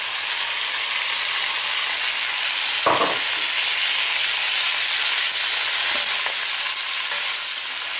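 Onions fry with browned meat in a pan, giving a steady, close hiss of sizzling with one brief scrape of a utensil partway through and no talk.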